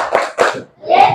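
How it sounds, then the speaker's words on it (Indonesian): Schoolchildren in an Indonesian classroom perform the 'Tepuk 5B' clapping chant, with close, loud bursts of clapping and voices in quick rhythmic groups, a brief pause, then another chanted, clapped phrase. "kita tepuk 5B dulu"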